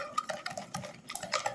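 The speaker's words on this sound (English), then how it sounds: "Now we're going to add our eggs and mix them in." Eggs get mixed into an oil and sugar batter in a bowl, with quick irregular scraping and light clinking of a utensil against the bowl, close and fairly quiet.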